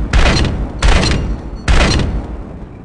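Three loud, close gunshots from the video game PUBG, evenly spaced, each a sharp blast with a short decaying tail, and no talking.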